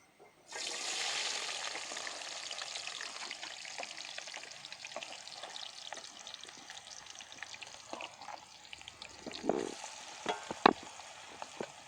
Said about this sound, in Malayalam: അരിഞ്ഞു വെച്ചിരുന്ന ഉള്ളി വെളുത്തുള്ളി ഇഞ്ചി തക്കാളി പച്ചമുളക് ഇങ്ങനെയുള്ള ഐറ്റംസ് നമുക്കൊന്ന് വഴറ്റിയെടുക്കാം